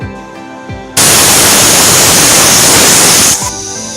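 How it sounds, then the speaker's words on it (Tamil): A pressure cooker boiling sugar syrup lets out a loud, hissing steam whistle that bursts in abruptly and holds steady for about two and a half seconds before cutting off, close and alone. "பாருங்கள், இப்போ 6 விசில் வந்துருச்சு"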